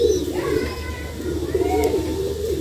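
A rescued baby pigeon with a small cut on the side of its back gives soft, continuous cooing close by, with faint background noise around it.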